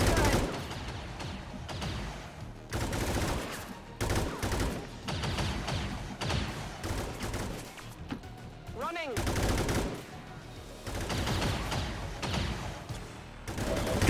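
Rapid bursts of soldiers' gunfire in XCOM 2, repeated volleys of machine-gun-like shots with brief pauses, loud and close throughout.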